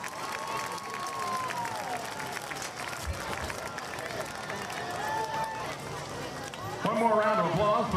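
A crowd at a high school football game at Tiger Stadium, Whitehouse vs Texas High, keeps up steady applause and cheering that swells near the end, while an announcer talks over it.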